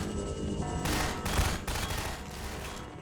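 Rapid video game gunfire in Half-Life 2 Episode Two: dense, overlapping bursts of shots at close range, continuing throughout with no speech.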